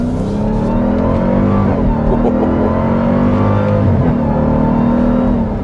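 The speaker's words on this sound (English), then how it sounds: "that supercharged whine is just fantastic." A loud supercharged engine in a 2021 Dodge Durango SRT Hellcat SUV revs steadily up and down with a high supercharger whine riding on top, close and continuous.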